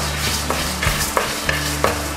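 Spices frying in a pan for Kerala beef curry with a low steady sizzle, broken by a few sharp scraping stirs of a utensil.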